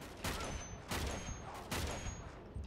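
Bursts of gunfire in the video game Uncharted 3, three loud volleys spaced about a second apart with a fourth starting at the end, each a broad rattling blast over a steady game backdrop.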